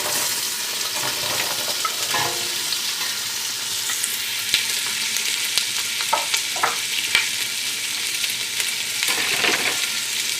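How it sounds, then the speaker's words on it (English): Vegetables sizzling in hot butter in a pan, a continuous bright crackling hiss with occasional stirring scrapes and spatters, steady and close without any talk. "so you can hear the butter sizzling nice, it's ready for the vegetables to go in"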